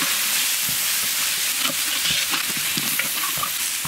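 Spice paste and water hitting a hot pan for chicken curry cooked at a garden house, a loud, steady hissing sizzle with faint stirring scrapes and bubbling throughout.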